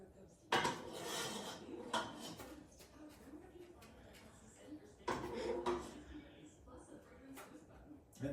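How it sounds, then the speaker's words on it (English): Potato leek soup is ladled into a bowl, with ladle scrapes and clinks against pot and dish in a few bursts, while a person talks over it. "Then we're gonna plate it, put it in the bowl."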